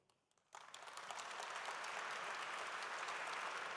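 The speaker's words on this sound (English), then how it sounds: "A good round of applause for Leigh." A luncheon audience breaks into applause for a mining company founder after his talk, the clapping starting abruptly after a brief quiet moment and holding full and steady to the end.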